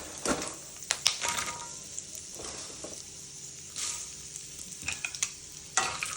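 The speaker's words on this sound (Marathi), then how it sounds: "आता बघा, मी तूप जरा जास्त प्रमाणात टाकले, त्याच्यात मी हे ड्रायफ्रूट सगळे ना छान भाजून घेते." Dry fruits roasting in a generous amount of ghee in a pan, a soft continuous sizzle broken by scattered stirring scrapes and taps, close and fairly quiet with no talk.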